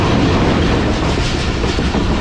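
The 40DN Jaffar Express passenger train rumbles loudly and continuously over the rails in Sindh, a steady clickety-clack heard from inside the carriage.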